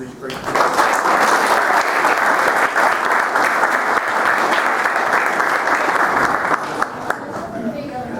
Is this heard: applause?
yes